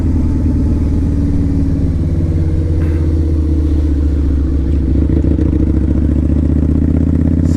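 A 2003 Harley-Davidson V-Rod motorcycle engine holds a loud, steady, close rumble with deep low-pitched throb and mechanical clatter, heard alone without talk.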